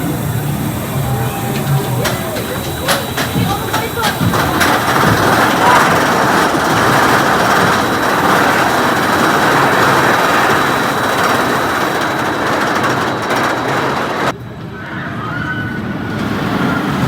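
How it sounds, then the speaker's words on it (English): Lightning Rod roller coaster trains rolling at Dollywood during the Christmas season, heard as a steady, continuous rumble and clatter of track noise over outdoor park ambience, cutting down abruptly near the end. "They are absolutely rolling trains as well,"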